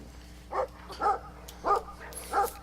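Four short dog barks from Brothers: A Tale of Two Sons sound at a moderate distance, spaced roughly half a second apart in an uneven rhythm over quiet game ambience.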